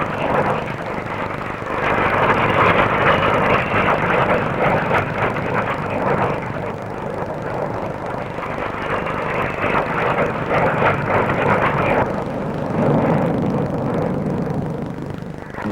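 An English Electric P1 supersonic jet fighter with high sweepback flies past at a 1950s Farnborough air show, a loud sustained roar of jet engine noise that swells and holds steady throughout with no talking.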